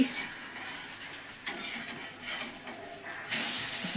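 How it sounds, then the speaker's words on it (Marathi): Gram flour omelette with onion and tomato sautéing in a pan, steady frying sizzle with spatula stirring and scraping, moderately loud and close, growing brighter toward the end. "आत्ते आपल्या स्टाईलमध्ये बेसनची पोळी काढता आपण ती परतून घ्यायची"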